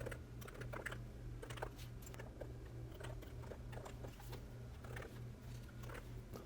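Card details typed on a computer keyboard, a quiet, steady patter of key clicks running without pause over a low background hum.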